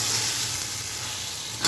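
Peas and mixed vegetables sauté in a pot for green chilli vegetable pulao, a steady, close, broadband sizzle that holds evenly for under two seconds, with a brief louder stir scrape at the end. No talking.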